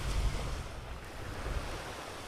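Rough surf washes in at Naples beach, Florida, with the water churned up. Waves break with a low rushing roar that swells and eases, and wind buffets the microphone.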